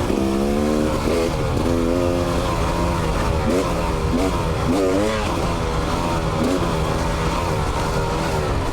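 A dirt bike engine shifts up through the gears on a rain-soaked, muddy mountain trail. It revs in repeated rising bursts, then eases into a steady drone as the bike rolls downhill, close and loud throughout.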